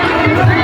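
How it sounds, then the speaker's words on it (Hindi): Crowd noise at the Baba Mahendranath temple fair forms a dense, close murmur of many voices and chatter with a few louder calls rising from the mix. "आई देखिए भीड़ यहाँ पे"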